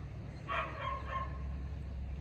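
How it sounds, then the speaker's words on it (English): Two dogs barking excitedly at a distance during an evening neighborhood walk, a short burst of a few barks over steady outdoor background noise. "Oh, there's two dogs over there. They're going crazy."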